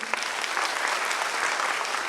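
Loud applause from an audience at a celebration programme in Raipur, Chhattisgarh, a brief burst of many hands clapping together, heard fairly faint and distant.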